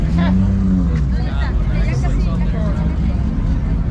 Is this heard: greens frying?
no